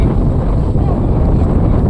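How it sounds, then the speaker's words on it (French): Strong wind buffets the microphone in a steady, loud roar with no letup, outdoors in Gibraltar. "Il y a du vent, hein."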